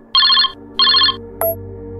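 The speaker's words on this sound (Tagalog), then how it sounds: "Agad naman dinampot ni Rocky ang cellphone at saka sinagot ang tawag" A mobile phone rings with an incoming call, two short bursts of a bright electronic ringtone tone pattern close by, followed by a brief click as it is answered.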